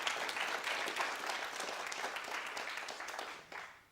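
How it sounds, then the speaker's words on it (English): A seated audience at a music course introduction breaks into applause, a moderately loud wash of many clapping hands that tapers slightly before a final brief swell. "so give yourself a round of applause for that."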